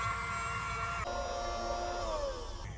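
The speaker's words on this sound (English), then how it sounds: "When you pull the trigger, it spins this shaft." A small battery motor in a toy bubble blower spins its shaft, a close, steady high-pitched whir that shifts pitch partway through and winds down at the end.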